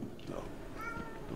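A cat meows briefly in an indoor home setting, a short plaintive call mixed in with a person talking nearby.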